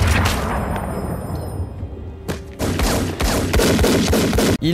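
Gunfire from Agent Smith shooting Neo in The Matrix: a dense, loud fusillade of rapid shots and booms, with a brief quieter pause before the shooting resumes at full force.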